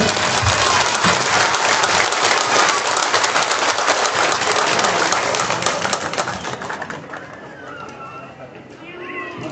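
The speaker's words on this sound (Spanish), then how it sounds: "Un aplauso, por favor" Audience at a political celebration breaking into loud, dense applause that holds strong, then thins and fades toward the end, with faint background voices and ambient noise.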